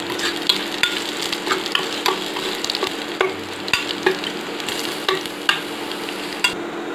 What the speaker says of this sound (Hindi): यहाँ पे जो मैंने मिर्ची लिया था उसको भी मैं डाल के थोड़ा सा चला लूंगी